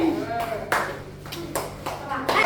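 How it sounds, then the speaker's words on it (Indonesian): Classroom clapping during an Islamic religious education lesson, a few loud bursts of group claps spaced roughly a beat apart, mixed with nearby voices talking. "Dan tepuk tangan semuanya"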